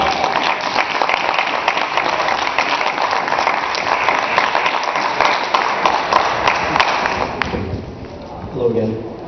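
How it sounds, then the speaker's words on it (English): Crowd applause at a convention for the security and medical team, a dense sustained roar of many clapping hands that fades out near the end. "Can we get a round of applause for our"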